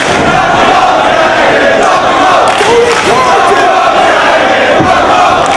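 Wrestling crowd at a 2004 Ring of Honor match between Alex Shelley and Bryan Danielson chanting loudly in unison, a dense, steady roar of many voices filling the arena.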